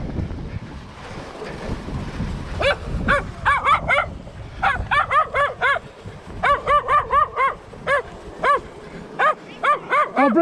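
A dog barks repeatedly on a beach, with bursts of sharp barks coming in quick runs over steady wind buffeting the microphone and the wash of surf.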